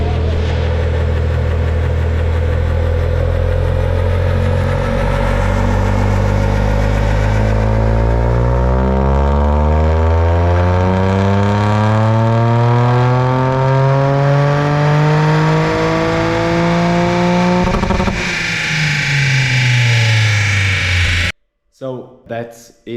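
A Toyota GR Yaris engine on a dyno after an ECU remap, droning loudly as it climbs steadily through the revs for many seconds, then abruptly drops off and falls nearly silent.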